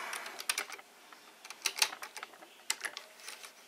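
Rapid, irregular typing on a computer keyboard, with close, crisp key clicks in uneven bursts and short pauses, no voices.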